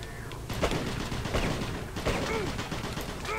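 Gunfire in Doom 3 BFG Edition: several sharp shots and short bursts ring out over a dense, noisy game background of rumbles and whooshing effects.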